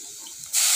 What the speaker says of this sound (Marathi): आपण यात जरा पाणी टाकूया,